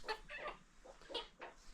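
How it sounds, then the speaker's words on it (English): Several farmyard chickens cluck in short bursts close by at a family home in Africa, a run of quick clucks with brief pauses between them and no talk over them. "We have some chicken here disturbing me."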